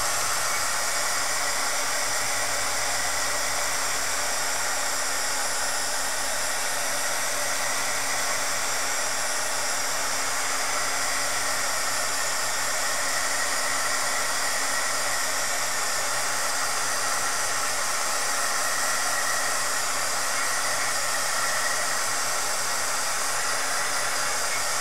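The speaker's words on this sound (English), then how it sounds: "I'm just going to heat that real quick, trying to dry it a little bit more." A heat tool blows constantly to dry paint on a mixed media book page, a loud, steady whooshing roar of hot air held close for the whole stretch with no pauses and no voices.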